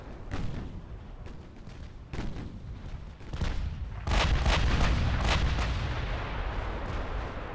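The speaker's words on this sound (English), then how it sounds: "More plunging fire." Naval gunfire from 1930s-era battleships in a video game naval battle, a rapid run of heavy gun blasts that thickens into a sustained booming rumble, loud and close, with shots overlapping in the second half.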